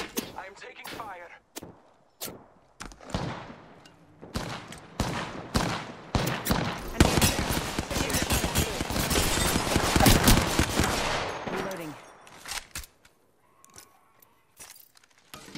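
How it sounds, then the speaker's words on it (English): Gunfire in Apex Legends, scattered shots building into a sustained, loud volley of automatic fire through the middle, then tapering back to isolated cracks. Voices and game chatter sit faintly in the mix. "I am taking fire."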